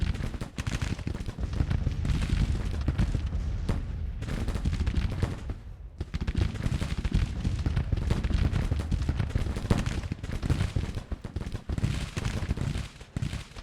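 Gunfire crackles across a battlefield in a Civil War strategy video game, dense and continuous volleys with a brief lull midway, steady and fairly loud, no voices over it.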